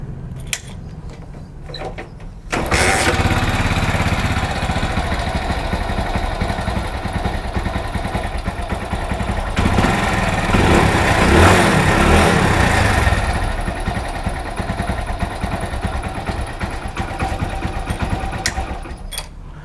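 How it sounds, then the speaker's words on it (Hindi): A motorcycle engine starts after a few seconds of quiet handling noise, then idles loudly and steadily with a brief rise in revs midway, close to the microphone. "तो अब मैं इस बाइक को स्टार्ट करके इसकी टेस्टिंग करा देता हूँ।"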